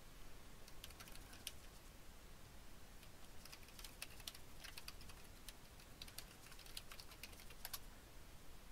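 Computer keyboard typing in quick irregular bursts of light clicks, close and faint, with brief pauses between runs of keystrokes and no talking.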